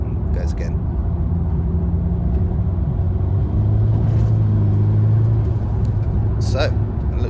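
A Mitsubishi Evo IX with a slipping clutch under throttle, its engine droning steadily inside the cabin and the revs climbing midway without the car gaining pace, with brief faint clicks.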